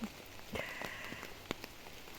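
Rain falling on a surface outdoors, a quiet continuous patter broken by scattered sharper drop ticks.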